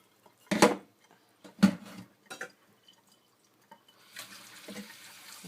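Water is poured in a few short splashes onto cat grass planting soil, brief wet gurgles separated by pauses, then a softer, longer trickle at the end.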